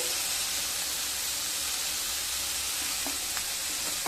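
A small amount of mustard oil sizzles and hisses in a hot pan beside onions while cooking a Bengali bitter gourd and pumpkin dish, a continuous loud frying crackle with faint clinks near the end.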